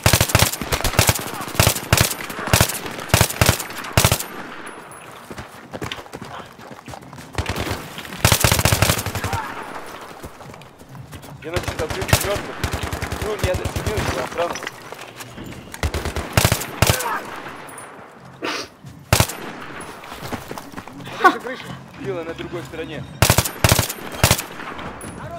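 Heavy automatic gunfire from a Battlefield 3 firefight, with repeated loud bursts of rapid shots separated by short pauses and scattered single cracks, continuing throughout.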